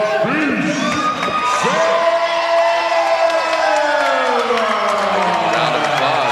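A crowd cheers and applauds after an MMA bout in Hawaii, with whoops and loud voices rising over sustained clapping close by, mixed with shouting throughout.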